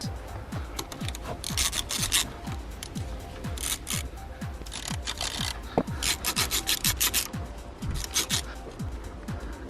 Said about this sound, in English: So these are quite tight, so I'm going to use the ratchet on this